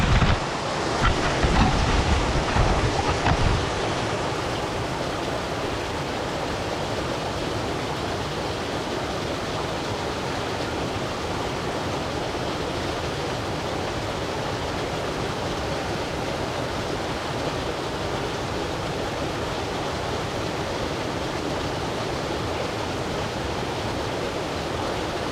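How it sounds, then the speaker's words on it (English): A waterfall along the Mt Whitney trail rushes in a steady, broad wash of water noise that continues evenly throughout, with some louder handling or movement in the first few seconds. "Oh my God, there's even a waterfall."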